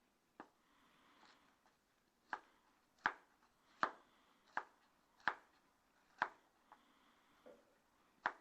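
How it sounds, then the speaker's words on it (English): Chef's knife slicing a carrot on an angle against a cutting board, about ten crisp separate chops at an unhurried, slightly irregular pace in a quiet room. "I'm going to cut my carrot on an angle."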